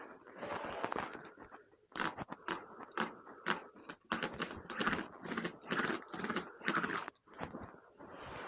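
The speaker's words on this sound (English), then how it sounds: "take my scissors and cut on the trace line to get my slice shape" Scissors cut through rug material along a traced line, a series of crisp snipping and crunching bursts in irregular clusters, close and fairly quiet.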